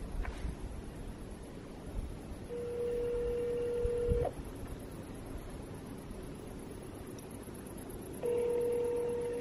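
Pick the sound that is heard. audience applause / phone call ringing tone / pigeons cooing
phone call ringing tone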